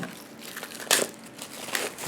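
Plastic packaging around Star Wars: Rebellion board game tokens crinkles and crackles up close in a run of soft, irregular rustles with a couple of sharper crunches.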